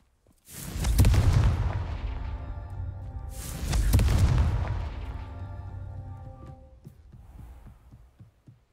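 Confringo fire spell blasts in Hogwarts Legacy: two deep, booming explosions a few seconds apart, each a heavy low thud followed by a long rumbling decay, loud and with no talking.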